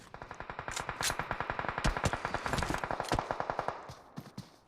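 Rapid automatic gunfire in PUBG Mobile rattles in long continuous bursts, loud and sustained, with a few scattered shots trailing off at the end; no voices.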